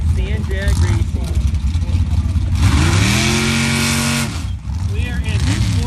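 Sand drag racing cars launching on a 300-foot sand track at Soboba Casino in San Jacinto, California, engines revving and climbing sharply in pitch midway, heard under a continuous announcer's voice.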